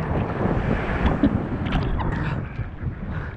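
Stormy sea waves surge and crash amid strong wind on the Crimean coast, with heavy rumbling water and microphone wind buffeting, loud and continuous without speech.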